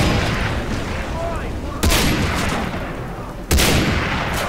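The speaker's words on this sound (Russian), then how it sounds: "Так, откуда стреляют?" Gunfire in the video game Far Cry 3: two sharp shots cut through a steady bed of in-game ambience, spaced about two seconds apart and fairly loud.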